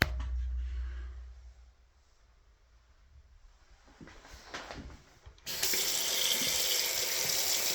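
Bathroom shower water in a house, heard faintly at first, then quietening, then a burst of handling clatter before the spray gushes on loud and steady for the last couple of seconds.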